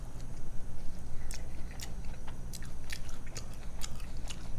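Someone chews corn on the cob topped with butter, taco seasoning, cheese and cilantro, giving close, repeated crunchy bites and wet chewing over a low background rumble, with no talking.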